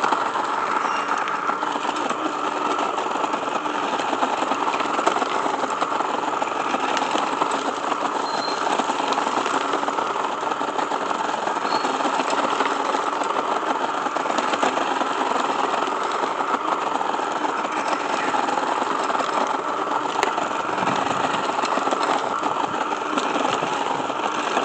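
An Einhell GE-CR 18/20 Li cordless garden tiller digs into soil with a steady electric motor whine and rough churning, running continuously and evenly at moderate loudness for the whole stretch.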